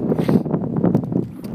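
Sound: wind

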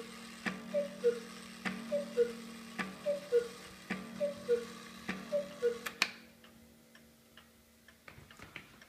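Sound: cuckoo clock ticking

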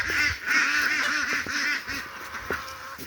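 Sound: ducks quacking at their housing

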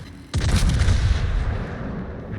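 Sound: warship secondary guns firing, from video game World of Warships

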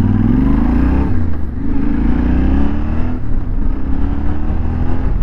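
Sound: Yamaha Tenere 700 motorcycle accelerating

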